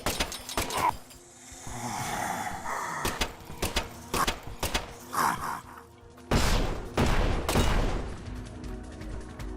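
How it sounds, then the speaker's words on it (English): Venom gun shots in Deadly Premonition 2 strike locks that burst apart, a run of sharp game gunfire bangs and pops, with a louder, denser blast near the end. "I don't remember the locks exploding when I shot them with my venom gun before"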